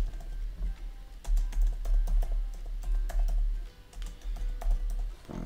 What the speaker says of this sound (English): Then you can type your title.